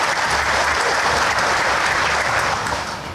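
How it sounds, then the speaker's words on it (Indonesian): Sustained applause from a large audience, dense and steady clapping throughout that tapers slightly at the end, with no talk over it. "Tepuk tangan buat semuanya."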